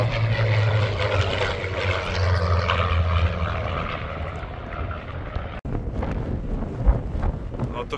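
Wind buffets an outdoor microphone at the Duxford air museum, a low, rumbling gusty roar mixed with a distant aircraft engine drone, with a sharp click partway through.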